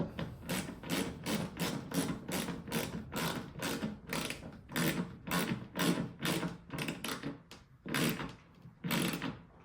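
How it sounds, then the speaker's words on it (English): A Jubilee hose clip being tightened onto a diesel heater fuel line, heard as a close, quick run of rhythmic ratcheting clicks from the screw band, steady and loud with brief pauses, and no talking. "So, okay, so we get our Jubilee clip then over this. Tighten that up."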